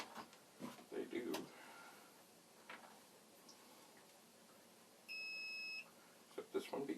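A multimeter gives one steady, high-pitched continuous beep lasting under a second, clear against a quiet room, with soft handling noises and someone talking quietly around it.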